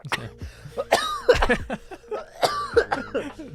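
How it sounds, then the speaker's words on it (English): Someone coughs repeatedly up close, a series of harsh throaty bursts in two clusters, with no speech. "I actually had to cough."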